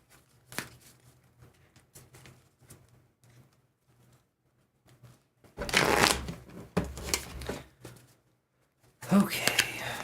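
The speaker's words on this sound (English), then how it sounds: "let me shuffle these and let's do RIO's question." Tarot cards being shuffled by hand, soft riffling bursts in two or three quick spells between quiet moments, close up, with faint whispery speech around them.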